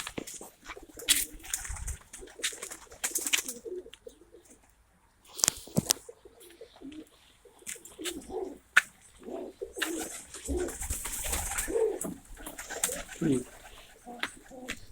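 Pigeons cooing in a loft with nesting boards, soft repeated coos scattered over about fifteen seconds, with occasional rustles and a voice talking faintly in places.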